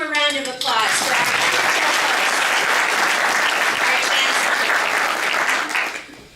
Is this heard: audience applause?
yes